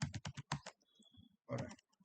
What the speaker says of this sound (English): let me just type something on the keyboard